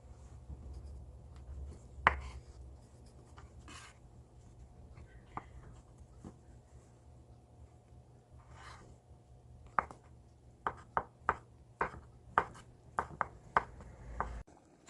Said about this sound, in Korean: 붙여놓은 계란 지단도 채썰기를 해주세요.